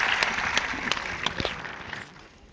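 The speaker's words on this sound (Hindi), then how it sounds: "एक बार तालियां बजा के आकर्षित करें" Applause from the audience at a kavi sammelan poetry gathering in Rohtak, a few loud separate claps rising over a thin patter of hands, fading away toward the end.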